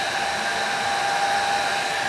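A hair dryer blows hot air onto hair in a continuous, loud, close whoosh with a steady whine, unbroken for the whole stretch and with no voices over it.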